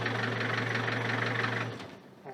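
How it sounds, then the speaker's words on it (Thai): A Toyota Hiace engine idles with a steady, close mechanical hum, then shuts off via its push start button, the running sound dropping away quickly to near silence with a faint click afterward. "เครื่องยนต์ก็ดับไป เครื่องยนต์ดับประตูก็จะล็อกอยู่อย่างนี้"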